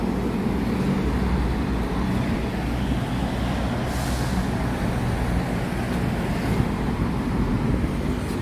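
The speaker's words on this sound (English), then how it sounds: "You gotta be careful over here too with traffic." Steady roadway traffic outside a beach mall in Hua Hin, Thailand, with trucks, cars and buses rumbling past continuously at close range, a broad unbroken wash of engine and tyre noise throughout.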